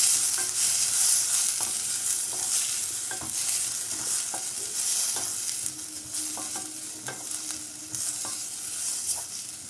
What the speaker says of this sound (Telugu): సన్నగా కట్ చేసుకున్న ఆనియన్స్, గ్యాస్ని లో ఫ్లేమ్లోకి అడ్జస్ట్ చేసేసుకున్నాం.